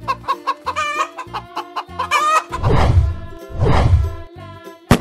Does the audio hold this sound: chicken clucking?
yes